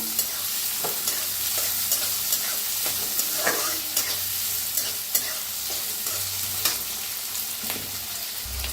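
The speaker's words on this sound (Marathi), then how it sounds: "बारीक कापून घेतलेला 1 कांदा, छान भाजून घेऊया।" Finely chopped onion frying and being stirred in a pan for a Marathi cauliflower-potato dish, a steady broad sizzle with regular light scraping strokes of the spoon throughout, close and continuous with no talk.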